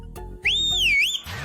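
A single loud, clear whistle rises, wavers and falls over about a second, heard alone.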